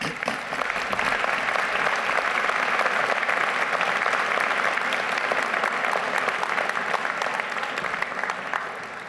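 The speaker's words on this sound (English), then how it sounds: "I'm not saying another word until I hear another one of those rousing applause for Jules" A large audience at a university commencement breaks into sustained, loud applause, dense clapping holding steady for the full length with a faint murmur of voices.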